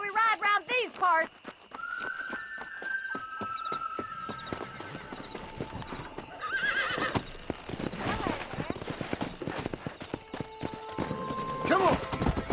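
Horses in the Red Dead Redemption game whinny loudly at the start, then hooves clip-clop in a steady galloping rhythm, with voices talking over the ride and another whinny near the end.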